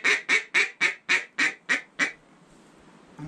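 Eight quick, clipped quacks from a duck call mimic a duck flying past, a steady close series that stops abruptly and leaves quiet outdoor air behind.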